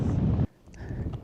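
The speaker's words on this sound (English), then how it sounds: "It is super windy" Strong gusts on a high mountain pass in Ladakh roar across the microphone for half a second, then drop away to a quieter, softer rush.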